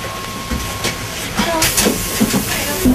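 A Swiss mountain railway train rumbles past with a steady hiss, clanking rail noise and a few brief tonal squeals toward the end.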